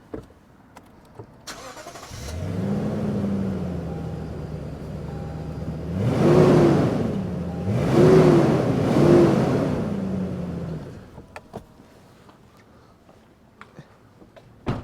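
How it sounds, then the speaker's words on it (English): A Lexus GX V8 engine starts, settles into an idle, then revs up sharply three times, each rev rising and falling back; loud and close, with no talking. "we're going to let you listen to the engine note because obviously a V8 is much more interesting"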